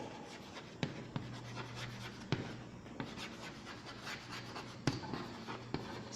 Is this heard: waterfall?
no